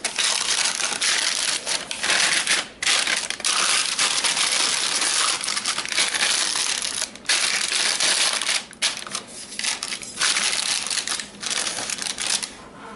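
Paper pressed and smoothed down onto date squares in a baking pan makes a steady, dense crinkling and crushing texture, close and continuous for the whole stretch with only brief dips.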